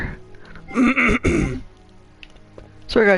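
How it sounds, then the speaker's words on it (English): A man clears his throat twice, two short loud rasping bursts close to the microphone, then one more brief throat sound after a pause. "Sorry guys, just clearing my throat."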